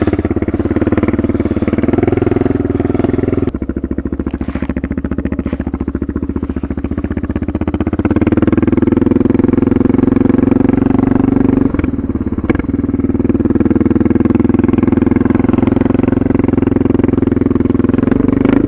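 A Suzuki DR650 motorcycle tuned with a Procycle jet kit rides along, its single-cylinder engine loud and close with a steady thumping drone that rises and falls as the throttle changes.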